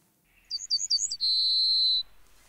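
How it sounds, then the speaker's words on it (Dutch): A yellowhammer sings a clear, close song: a quick run of four or five short, bright notes followed by one long, drawn-out final note, heard alone against quiet background. "En de geelgors klinkt precies als het begin van de 5e van Beethoven."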